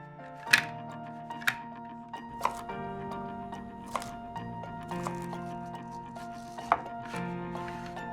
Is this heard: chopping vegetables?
yes